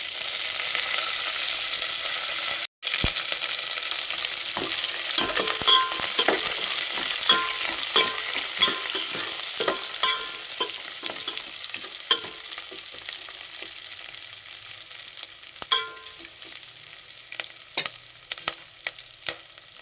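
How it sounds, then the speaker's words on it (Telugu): Green chillies and curry leaves sauté in oil over softened onion, a continuous close sizzle with scattered clicks and scrapes of stirring and one sharp knock early on. "పచ్చిమిర్చి కరివేపాకు అంతా మగ్గింది"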